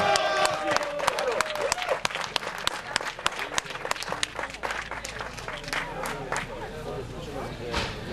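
A crowd applauds steadily at a motorsport award ceremony for historic rally cars, where the Polish Motor Association hands out prizes. Dense clapping fills the space with a murmur of voices underneath, easing off slightly toward the end.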